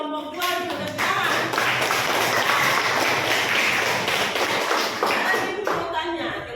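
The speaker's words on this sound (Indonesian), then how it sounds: "Tepuk tangan untuk kelompok 2 tepuk tangan" Pupils in a classroom clap for the second group, a dense, close round of hand claps that swells after a voice opens and then fades out toward the end, with speech at the edges.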